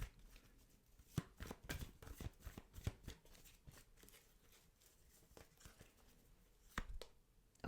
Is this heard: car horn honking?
no